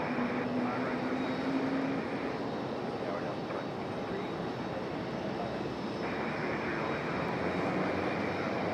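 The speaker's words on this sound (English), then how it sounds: "It was a JetBlue A220. Coming down the hill." A JetBlue Airbus A220 descending to land at Raleigh-Durham International, its engines a steady, broad roar at moderate distance that holds evenly throughout, with a faint tone drifting early on.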